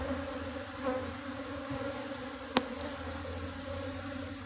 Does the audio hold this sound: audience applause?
no